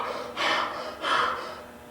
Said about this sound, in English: I blow out or exhale sharply